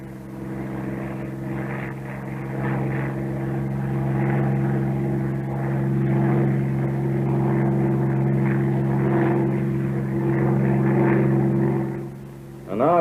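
Bell P-39 Airacobra propeller fighter in flight, its engine and propeller making a loud, steady droning hum with strong tonal harmonics that holds throughout and shifts slightly near the end.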